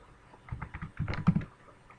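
Rapid typing of Java code on a computer keyboard, a quick close run of light key clicks with a few firmer taps, no talking.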